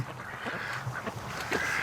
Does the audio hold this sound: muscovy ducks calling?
yes